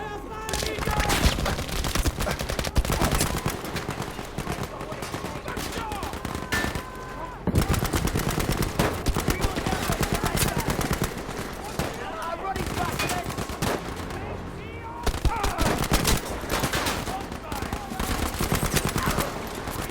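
Rapid, dense gunfire rattles almost nonstop in Battlefield V, bursts of automatic shots and explosions blending together during a snowstorm scene, with a voice talking underneath.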